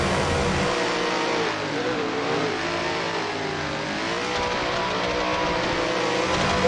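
Racing car engines roar in a sim racing competition at the Mugello circuit, a loud, continuous, close engine drone with pitch shifting up and down through gear changes and revving.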